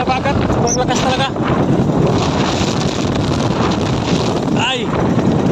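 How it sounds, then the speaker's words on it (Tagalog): Strong wind with heavy rain roars loud and constant, buffeting the microphone in a dense, unbroken rush, while a voice briefly breaks through. "Sobrang lakas ng hangin."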